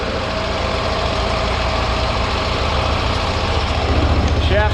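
A two-cylinder engine idles steadily at close range, a low even throb running without a break from start to finish.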